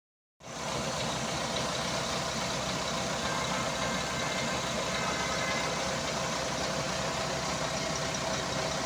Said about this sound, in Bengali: উইচাই WP12 430 হর্স পাওয়ারের যে মডেলটা আছে সেই ইঞ্জিনটা লাগানো হয়েছে